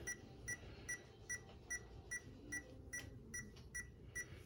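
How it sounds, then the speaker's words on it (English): A small electronic speed controller on a Carisma Brat RC car beeps repeatedly in a steady, even rhythm, short high tones about twice a second over a faint background hum. "and it'll start beeping at you."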